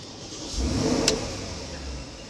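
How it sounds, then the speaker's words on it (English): Porsche Cayenne S with a 4.8L V8, a 2013 model, starting up: a short starter whir followed by a low rumble that swells and settles into a steady idle. "let's go ahead and turn on the Porsche Cayenne S and hear the V8 rumble into life"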